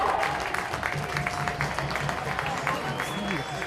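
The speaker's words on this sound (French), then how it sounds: "sous vos applaudissements" A football stadium crowd at a Seraing–Lommel match applauds steadily, a dense wash of clapping that stays even throughout, with no voices standing out.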